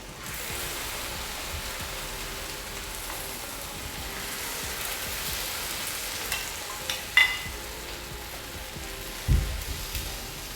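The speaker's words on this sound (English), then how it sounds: "We'll take it out of the oven and immediately put the sugar syrup on the baklava." Sugar syrup poured over a tray of hot Turkish baklava fresh from the oven, filo pastry sizzling in a steady crackling hiss, with a few small clinks and knocks near the end.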